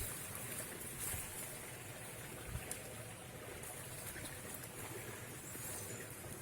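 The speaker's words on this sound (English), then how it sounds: "I don't know if you can hear a river babbling away in the background." A river babbling in a jungle-like forest, a steady, soft wash of flowing water running evenly throughout at a distance, with no voices.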